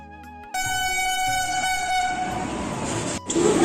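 A train at Howrah railway station sounds a loud, sustained horn blast that starts abruptly and holds for about three seconds, with station rumble underneath and a brief break before the noise resumes.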